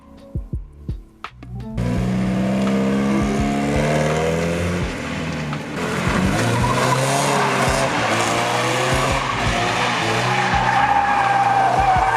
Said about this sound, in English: So once the tire's done, we're gonna go do some drifting.